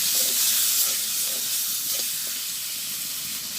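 Spices with salt, turmeric and ground dried chili sizzle steadily in hot oil, a dense close hiss with faint stirring scrapes and no talk.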